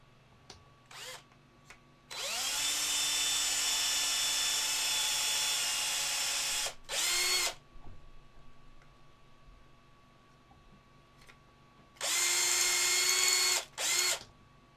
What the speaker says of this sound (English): You want to start slow, because the drill wants to slip.